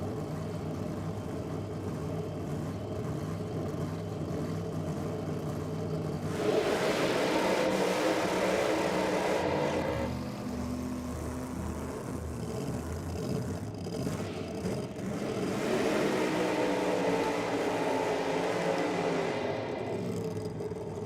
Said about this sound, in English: Not a bad sound to blow an alcohol engine, hey?